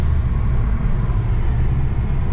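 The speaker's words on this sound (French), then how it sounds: "On entend bien le côté compresseur du turbo en fait." A turbocharged Mazda MPS car engine rumbles loudly and steadily up close, a dense low drone with broadband roar and no break for the whole stretch.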